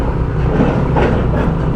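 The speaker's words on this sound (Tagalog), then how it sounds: "Ingay ng truck Ganyang katagtag dito." Steady rumbling vehicle noise with a low droning engine and broadband road roar, continuous and fairly loud, with faint rattles from an uneven surface.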